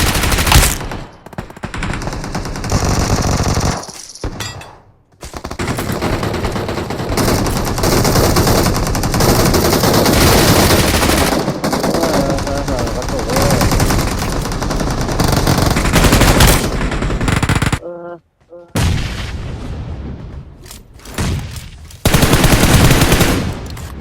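Loud, continuous automatic gunfire from the video game PUBG Mobile rattles in long rapid bursts with brief gaps, dense and close throughout.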